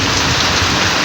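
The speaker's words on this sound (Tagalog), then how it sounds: "Malakas ang ulan mga kapakner" Heavy rain pouring down near a hut in the countryside, a dense, loud, unbroken roar of drops drumming on surfaces with no pauses or voices.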